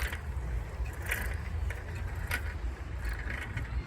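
A rattly 1940 Raleigh Ideal Safety vintage bicycle is ridden, giving a continuous low rumble with scattered metallic rattles and clanks throughout.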